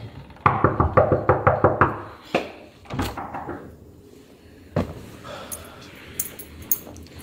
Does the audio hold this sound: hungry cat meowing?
no